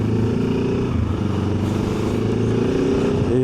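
A Benelli TRK 702X motorcycle, a 70-horsepower bike with about 26,000 km on it, accelerating hard on an expressway during a 0 to 100 run, its engine a loud, steady, close drone with rising harmonics and no talk.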